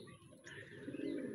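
A racing pigeon cooing softly nearby, a low throaty murmur that swells slightly toward the end.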